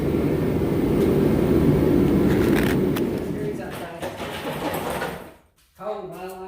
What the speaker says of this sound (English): Get the vacuum and suck it out.